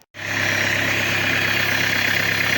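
A Peugeot Boxer 2.8 HDI diesel van engine fires up after a brief silence and settles into a loud, steady close-up idle with an even low rumble.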